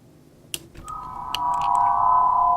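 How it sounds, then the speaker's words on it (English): A processed plasma energy ball effect, starting with scattered crackles and clicks, then settling into a steady buzzing hum that grows slightly louder and holds to the end. "So I guess it's plasma death. It's an energy ball."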